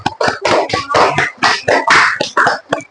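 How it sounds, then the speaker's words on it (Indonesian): A classroom group gives a round of applause for a student group's calligraphy work, dense clapping in irregular bursts lasting the whole stretch, loud and close. "Tepuk tangan dulu untuk kelompok 1"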